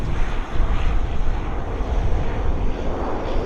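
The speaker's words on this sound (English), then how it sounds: "Westjet Q400." A WestJet Q400 turboprop airliner roars steadily and close at Vancouver Airport, its broad engine noise filling the air on a windy day. No one speaks.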